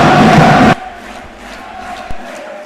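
Fans in the stands at the Pala Castellotti arena roar and chant loudly for under a second, then the crowd noise cuts away to a quiet, distant murmur with one brief thump.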